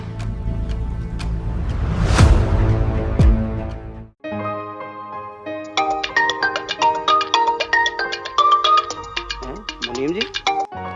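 A mobile phone ringtone plays during a call in a Haryanvi village drama, a bright repeating melodic tune that enters after a burst of background music and continues in short chiming phrases to the end.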